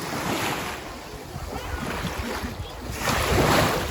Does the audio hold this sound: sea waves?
yes